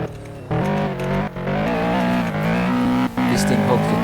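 A tuned Audi S3 in a third-person racing game gives a steady, loud engine drone with brief dips as it shifts or lifts, while a voice talks over it. No distinct blow-off valve burst stands out.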